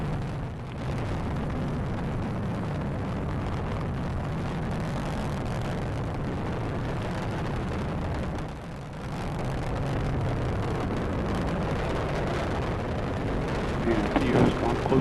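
An Atlas V rocket with its RD-180 engine climbs during launch ascent. A loud, continuous roaring rumble holds steady with a brief dip midway, and launch-control commentary runs faintly beneath it.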